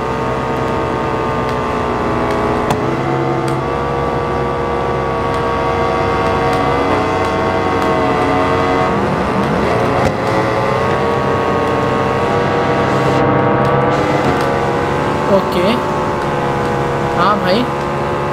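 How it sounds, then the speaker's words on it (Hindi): Harley and Royal Enfield Bullet motorcycles racing on a drag track, engines droning and revving continuously, loud and close, with a person talking throughout. "साउंड काफी स्मूथ आ रहे हैं बाइक के।"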